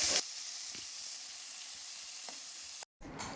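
Large onions with salt sauté in a pan for egg kurma, giving a steady close sizzle with a few faint stirring knocks before a brief cut in the sound near the end.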